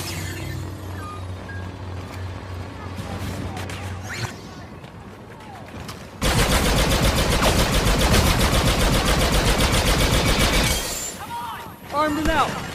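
A machine gun lays down covering fire in the video game Battlefront 2, a loud, rapid, unbroken stream of shots lasting several seconds amid game noise, with voices heard around it.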